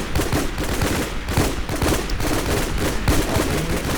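Rapid, continuous gunfire in the online shooter WarZ, a dense fusillade of overlapping shots and bursts that stays loud and steady throughout, with no voices.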